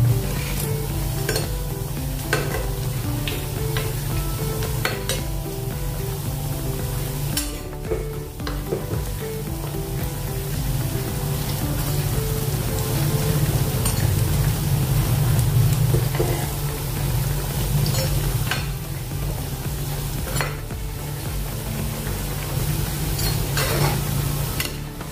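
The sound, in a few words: raw potato snack frying in hot oil, being flipped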